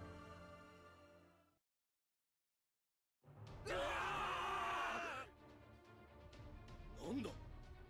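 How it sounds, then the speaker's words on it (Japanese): Crowd screaming in Danmachi Memoria Freese, a loud massed wail of many voices that surges for about two seconds and then fades into lingering cries after a stretch of silence. "なんだこの遠雷のごとき悲鳴は。 四方八方から聞こえてくる"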